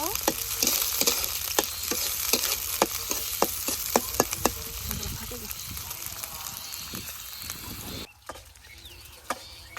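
Chopped onion and green chilies fry in hot oil, a dense crackling sizzle punctuated by sharp stirring scrapes in a village kitchen, cutting abruptly quieter near the end before faint sizzling resumes.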